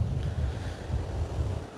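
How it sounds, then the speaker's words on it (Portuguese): Strong wind blows at the seashore in Tramandaí, a loud continuous rumble buffeting the microphone, with surf blended into the steady roar and no voices. "Vento bastante intenso aqui na beira-mar"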